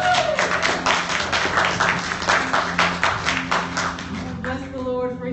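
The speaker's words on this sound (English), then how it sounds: "Can y'all give her a round of applause as you come?" An audience claps through a sustained round of applause for a woman coming up to speak at a church service, dense and even throughout, with a voice talking over it near the end.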